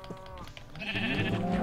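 A sheep bleats in the video game Minecraft. A drawn-out wavering bleat rises toward the end of the short stretch, over faint background game noise.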